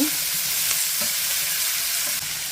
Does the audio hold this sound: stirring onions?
yes